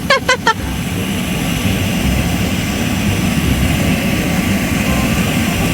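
An air blower in a children's indoor playground sends balls flying upward with a loud, steady whooshing roar. A few quick taps come at the start, then the blower runs on alone without a break.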